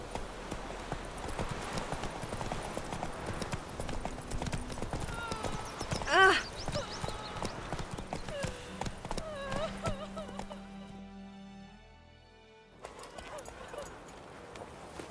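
Roach the horse gallops in The Witcher 3, hooves clip-clopping in a fast, steady rhythm under game music and talk, with a loud accent midway before the hoofbeats fade and resume.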